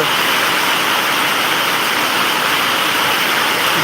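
Heavy rain pours steadily onto leaves during a downpour, a dense, continuous rushing hiss with no breaks, loud and close throughout.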